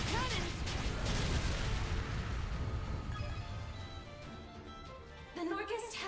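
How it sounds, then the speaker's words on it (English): Ship cannons fire in a naval battle in the game Ys X Nordics, with dense booming blasts and crashes packed close together, loud and continuous through most of the stretch, under shouted game voices. "Fire the cannons!"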